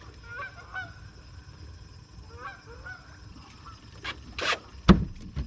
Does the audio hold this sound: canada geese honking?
yes